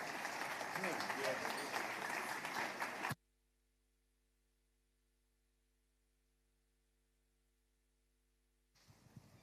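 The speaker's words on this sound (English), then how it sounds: "please give a round of applause for Sinari Danjo" Audience applause at a business platform event in Lagos, Nigeria. The clapping is loud and dense for about three seconds, then cuts to silence, and faint noise returns near the end.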